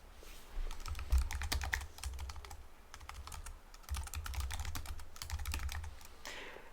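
Steady typing on a computer keyboard, clicking keystrokes in quick bursts with a short pause midway, close and clear with no talk.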